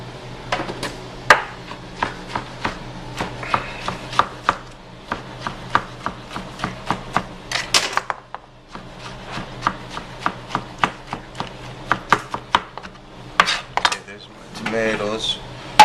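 A knife chops tomatoes repeatedly on a cutting board, sharp rhythmic knocks in uneven bursts, close by, with faint rustling of food and utensils between strokes.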